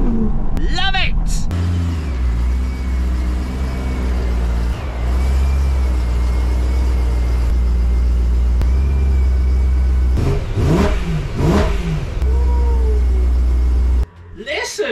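A BMW M3 engine runs with a loud, steady low rumble and rich harmonics for most of the stretch, with a few swells in revs and brief breaks near the start and end. Voices can be heard at times over it.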